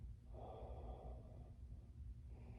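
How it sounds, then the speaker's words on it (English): A slow, deep breath drawn in during gentle yoga, a soft airy inhale that swells and fades, quiet and close over low room hum. "Nice deep breaths."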